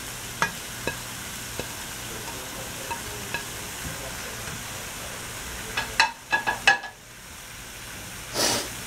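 Hearts of palm filling with tomato sautéing in a pan, giving a soft, steady low sizzle with scattered spoon taps and stirring scrapes, a few louder clatters near the end.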